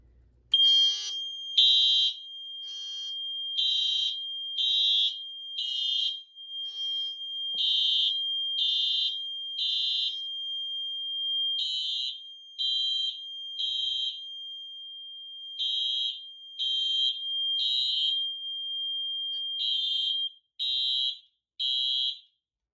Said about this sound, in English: And the horn is going to sound in temporal coding,